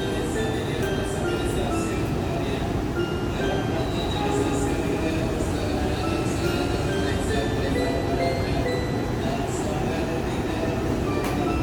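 A passenger train rumbles steadily past at close range on the adjacent track, wheels grinding and faint metallic squeals rising over the continuous low roar.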